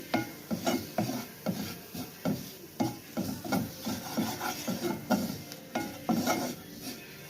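Flour (maida) being stirred in a pan for a creamy mushroom dish, heard as steady rhythmic scraping and rasping strokes, close and moderately loud, with a faint sizzle underneath and no talking.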